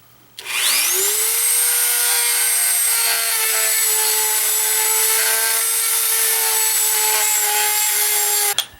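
A power tool spins up to a steady high whine while sanding the inside of a PVC tube into a taper for a homemade two-piece shakuhachi. The loud, continuous grinding hum lasts several seconds before stopping.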